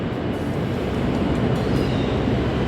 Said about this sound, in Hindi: जिस ट्रेन के लिए मैं आया था वो भी निकल गई,